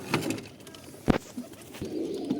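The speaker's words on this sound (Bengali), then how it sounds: "সবগুলোই কবুতর এভাবে আমি ছেড়ে দেব" Pigeons coo in low, soft murmurs nearby, broken by a sharp flap or thump partway through.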